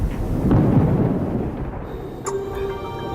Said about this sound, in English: As soon as it gets dark, thunder begins to reverberate around the airport.